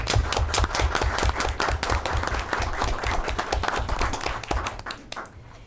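A meeting audience at a school district board session gives sustained applause, a dense, continuous patter of many hands clapping that fades slightly at the very end.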